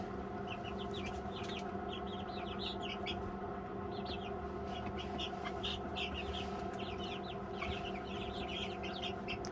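Many young turkeys cheep and peep continuously over a steady low hum, a busy chorus of poults chirping close by with no talking.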